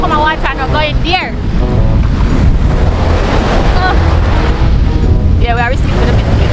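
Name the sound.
rough sea waves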